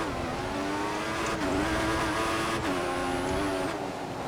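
A Formula One race car engine in the F1 2014 racing game at the Hungary circuit drones loudly and steadily, its pitch rising and falling slightly with faint tire noise, with no talking.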